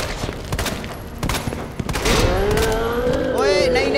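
Gunfire in the video game Resident Evil 2 sounds as a rapid cluster of sharp shots early on, followed by sustained loud game noise with rising and falling tonal sweeps.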